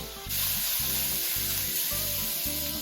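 Sliced sausage frying in a pan until the fat renders, a steady close sizzle that starts abruptly and continues with a low background hum underneath.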